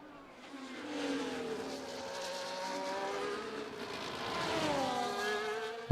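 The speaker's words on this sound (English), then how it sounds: "Valtteri Bottas starts the lap now." A Williams FW46 Formula 1 car at the Australian Grand Prix in the F1 2024 racing game, its high engine note holding steady and climbing through gear changes over a single lap, loud and close.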